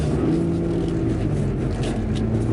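BMW G80 M3 Competition xDrive accelerating at half throttle, a low steady engine drone with rising harmonic tones from inside the car, continuous and fairly loud for a couple of seconds, no talk.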